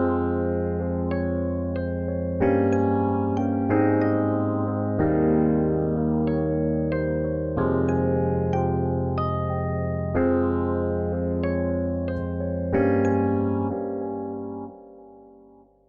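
Keys play chords alone for a boom bap beat, a series of sustained chord stabs changing every second or so at a steady, moderate level before fading out at the end.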